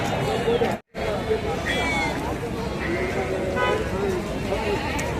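Several sheep and goats bleating at a weekly animal market in Gangadhara, over a busy crowd of talking people and shuffling, with one brief dropout partway through.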